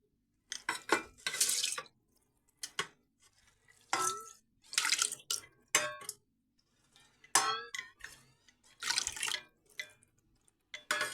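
Washed rice and water are tipped into a small rice cooker, several separate bursts of splashing, pouring and clattering, with short quiet gaps between them.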